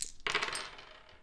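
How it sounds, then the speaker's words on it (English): Dice for a Hundred Years' War board game clatter briefly across a hard surface in one quick, close rattle. "We have 2 red dice, and we've got William's got a black dice"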